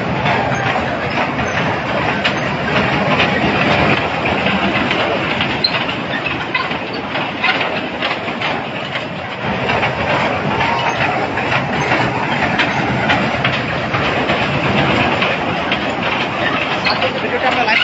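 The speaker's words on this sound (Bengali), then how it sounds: "রেল গাড়ি" A fair ride train runs at the Bijoy Mela 2025, giving a steady, loud rumble and clatter that lasts throughout, mixed with crowd noise and people talking nearby.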